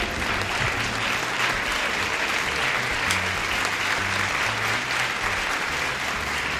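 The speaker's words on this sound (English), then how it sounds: "give a warm round of applause for Slurp Von Lipstick" Steady, dense applause from a comedy-show audience welcoming a comedian to the stage, a continuous even roar of clapping with no voices on top.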